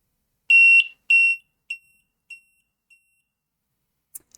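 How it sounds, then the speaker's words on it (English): A small buzzer wired to pin 17 of a Raspberry Pi Pico gives two long shrill beeps, then three or four shorter ones that fade away, with a faint click at the end and no talk. "This buzzer is actually a little bit louder than the other one."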